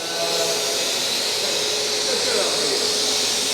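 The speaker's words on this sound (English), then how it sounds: "How are you going to suck that up, though?" A Numatic TT3450T vacuum cleaner runs with a steady, loud, close roaring hiss while sucking up debris, continuous throughout without breaks.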